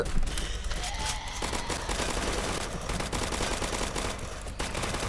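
Rapid gunfire from weapons shooting at zombies in a Roblox survival game, dense continuous bursts of shots filling the whole stretch at close range, with no talking.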